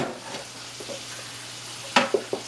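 Onions fry in a pan with a low, steady sizzle, broken by a few sharp clattering stirs or scrapes toward the end.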